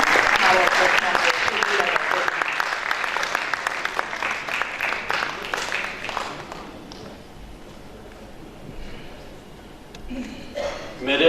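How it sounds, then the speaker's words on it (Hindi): A hall audience claps in warm, dense applause to welcome the chairperson at a Hindi poetry gathering, loud at first, then thinning and fading over several seconds before a few scattered claps return. "तालियों के साथ आप स्वागत करें हमारे अध्यक्ष।"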